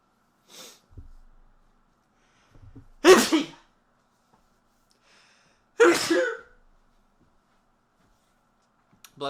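Two sharp, explosive sneezes several seconds apart, each a loud close burst after a quiet breathy intake, with soft breaths and sniffs in the otherwise near-silent gaps.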